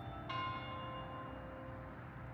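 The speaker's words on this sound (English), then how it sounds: "the bells in the spire are chiming the hour" A church bell in a four-sided spire in southern Nevada strikes once for the 8 a.m. hour, a clear bright toll that rings on and slowly fades over steady outdoor background noise.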